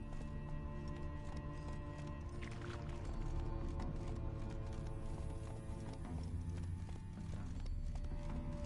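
Roach, a horse in Witcher 3, gallops with steady, rhythmic hoofbeats over a dense bed of game music and ambience, the hooves moderately clear throughout.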